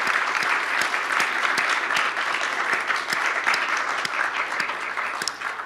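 An audience at the Free State Foundation annual policy conference applauds a panel, with many hands clapping in a loud, even wash that holds steady throughout.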